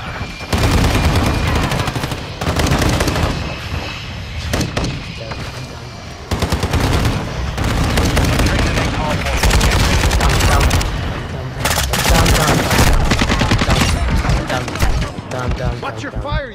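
Loud, dense bursts of automatic gunfire and single shots crowd a military shooter game battle, with rapid irregular volleys and brief lulls, mixed with occasional voices.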